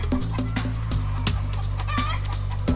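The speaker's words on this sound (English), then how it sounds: "Chickens always squabble and squeal as they peck the ground in search of a" Chickens in an open field cluck and squabble, a close run of sharp repeated calls and squawks over a low steady hum.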